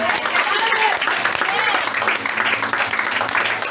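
A church congregation applauds together at a worship service, steady loud clapping with voices mixed in, continuous throughout.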